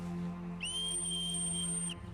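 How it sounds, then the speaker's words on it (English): A 1940s dog whistle gives one steady, high, piercing tone lasting just over a second, close and clear over a low background hum. "So 1940s dog whistle."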